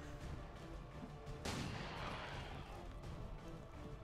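A single booming sniper gunshot in XCOM 2, a sudden blast with a long rumbling decay, set against a dense bed of game ambience and low music.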